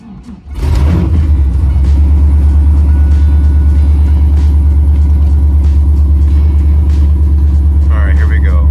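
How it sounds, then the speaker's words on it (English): An LS1 V8 cranks and catches after an engine swap, then settles into a loud, steady, lumpy idle close by, running on with coolant newly added. "I'm gonna give it the first start with coolant"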